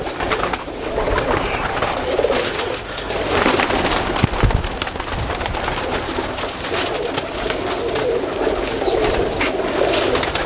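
Pigeons from a large-bodied breeder's flock coo steadily at close range, a continuous soft murmur of overlapping calls with no one speaking.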